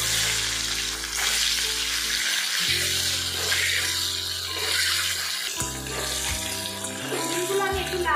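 Eggs fry in hot oil seasoned with turmeric and salt, crackling and sizzling loudly and continuously, with steady music playing over the cooking.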